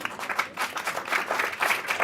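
Audience applause at a startup interview event in Los Angeles, a steady, fairly dense patter of many hands clapping that stays even for about two seconds with no talk.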